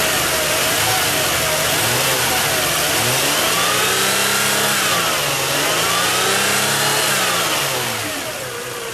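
A 1996 Toyota Avalon engine, under test for an EGR airflow fault, is raised from idle toward 3,500 RPM, its hum rising and falling in smooth, steady sweeps close up, easing off near the end.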